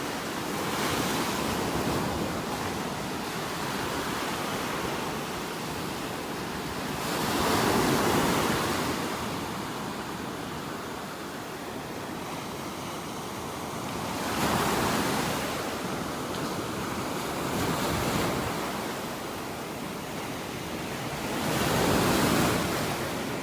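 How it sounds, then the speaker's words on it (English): Ocean surf rolling onto a beach in North Naples, Florida, a continuous wash of breaking waves that swells in three slow, loud crests about every seven seconds, with light wind and no voices. "Just love walking along and listening to the sounds of the waves."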